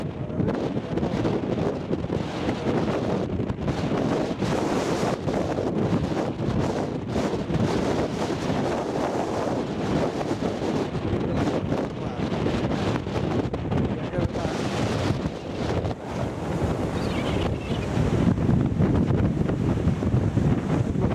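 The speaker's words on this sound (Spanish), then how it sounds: "realmente yo no tengo idea de la calidad que, va a tener este vídeo porque entre el viento y el viento" Strong coastal wind at a wild seaside near Warrnambool and Port Fairy buffets the microphone in a loud, steady roar with surf noise beneath, continuous for the whole stretch while someone speaks under it.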